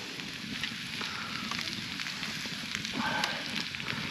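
Chanterelle mushrooms fry in a pan with a faint, steady sizzle and soft crackle, quiet and close, without talk.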